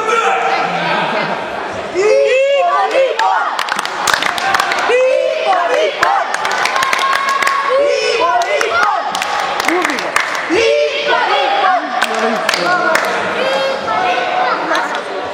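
Crowd of fans cheering and shouting with scattered clapping, a loud continuous mass of voices that swells and recedes throughout, with individual shouts rising above the din.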